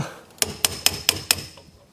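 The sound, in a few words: hammer knocking a part out via screwdriver extensions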